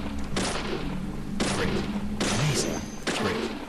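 Repeated gunfire from a weak handgun blasting at zombies in Deadly Premonition, four loud bursts spaced about a second apart over a dense game background, with faint voice-like sounds mixed in.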